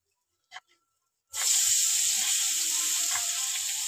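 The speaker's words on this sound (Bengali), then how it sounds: "কড়াইতে তেল দিয়ে দিয়েছে ঠাম্মা," Small river fish hit hot oil in a wok over a village clay stove, bursting into a loud, steady sizzle after a brief quiet start with a couple of faint knocks.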